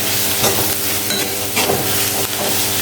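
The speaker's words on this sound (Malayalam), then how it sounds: "നന്നായിട്ട് മിക്സ് ചെയ്ത് കൊടുക്കുക." Onions sauté in a pan with a loud, dense sizzle and hiss, broken by a few soft scrapes of stirring, close and continuous with no talking.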